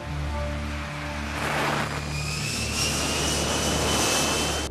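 Military fighter jets roar overhead, a loud continuous broadband rush with a steady low engine drone that swells slightly as the aircraft pass, with no voices.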